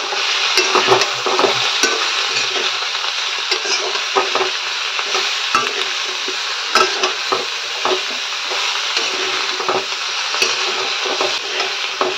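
A thin Bengali rohu-style fish curry with winter vegetables being stirred in a pot, giving a steady loud sizzle with frequent scraping and clinking strokes of the spoon, close up and without voices.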